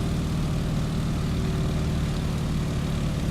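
Propeller airplane engine at cruise power with the propeller set to 1900 RPM, a steady, loud, low droning hum that holds constant throughout.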